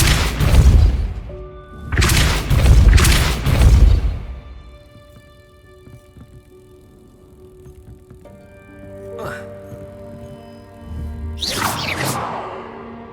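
Spell effects from the video game Hogwarts Legacy: loud bursts and whooshing impacts around the first few seconds, then humming tonal magical resonance, with another burst near the end.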